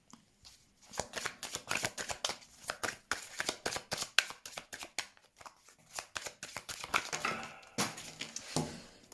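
Tarot cards being shuffled close up, a long run of rapid riffling and slapping bursts in an uneven rhythm, fairly soft and heard alone.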